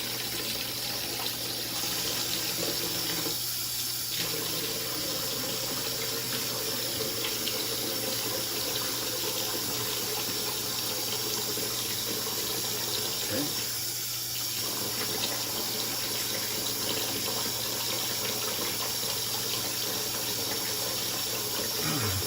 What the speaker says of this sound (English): I'll rinse my face real quick.